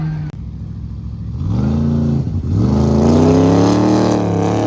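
A race car on an autocross lap, the engine droning loud and close, dipping briefly as it shifts and then climbing steadily in pitch as it accelerates hard.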